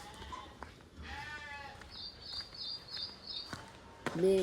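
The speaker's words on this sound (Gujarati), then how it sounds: "બે કરે છે બકરા" Goats bleat a few times in a quiet outdoor setting, with a brief high chirping in between and a louder bleat near the end.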